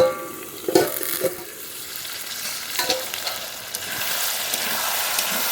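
Duck curry, made from a whole country duck, being sautéed in a pan: a close, continuous sizzle with a few scraping stirs at the start and again near the middle, no voices.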